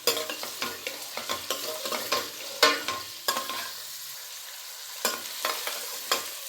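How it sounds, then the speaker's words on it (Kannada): Onions frying in a pan for a rajma masala, stirred with repeated scraping strokes over a soft sizzle, close and rhythmic with brief pauses between strokes, no voices. "ಈರುಳ್ಳಿ ಬಣ್ಣ ಚೇಂಜ್ ಆಗೋ ತನಕ ಚೆನ್ನಾಗಿ ಫ್ರೈ ಮಾಡಿ ಈರುಳ್ಳಿನ."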